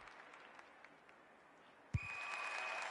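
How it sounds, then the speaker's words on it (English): At an AFL football match, a faint stadium murmur suddenly swells into a loud, sustained crowd roar of shouting and clapping that carries on to the end. "The crowd cries ball"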